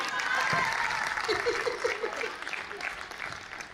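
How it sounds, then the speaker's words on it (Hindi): An audience at a Hindi comic poetry gathering at the Mahakumbh bursts into applause. Brisk clapping swells, then tapers, with scattered chuckles and a voice briefly heard. "ताली बजाइए।"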